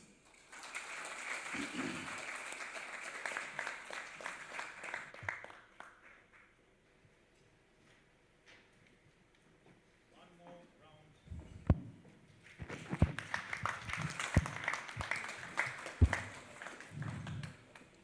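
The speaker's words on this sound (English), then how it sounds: "One more round of applause to the room, to the panelists, to the keynote speaker" Audience applause at an economic forum, two bursts of clapping from the room separated by a quieter pause, the second fuller and nearer with a few louder individual claps.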